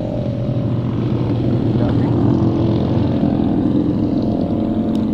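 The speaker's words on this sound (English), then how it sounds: "there's a motorcycle driving by." Several motorcycles pass near an old desert cemetery, their engines making a loud, continuous drone that swells slightly and stays steady without talk.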